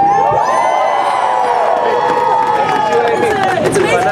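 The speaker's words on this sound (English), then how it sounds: "Everyone give a loud cheer for everyone who was there" A crowd cheers loudly at an outdoor free speech rally in Berkeley, with sustained whoops, shouts and high yells overlapping close by, a dense roar that holds steady throughout.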